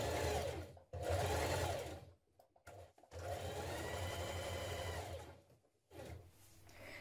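A sewing machine runs a ruffle dress side seam at a 1.5 centimeter allowance, whirring loudly close up in several long stitching runs broken by short stops.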